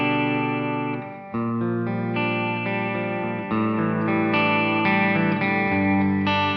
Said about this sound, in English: With short modulated reverb, it has a pretty similar sound to if you're using a reverb pedal and a chorus pedal together at the same time